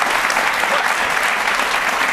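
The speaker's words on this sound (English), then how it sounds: "They're cheering you on back there." Sustained audience applause with some cheering from a crowd gathered for a women's sports leadership event, dense and steady throughout with no pauses.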